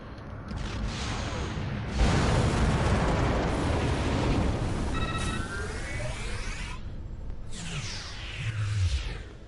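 Starship weapons firing in Star Trek Online, a continuous loud roar of blasts and explosions with sweeping tonal beam whines and whooshes layered over a heavy rumbling bed.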